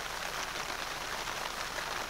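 Steady rain on an outdoor camp during a solo trek through the Kaldoaivi and Finnmark wilderness, a dense continuous hiss of drops spattering on a surface at even loudness with no voices.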